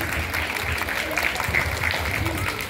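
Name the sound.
audience applause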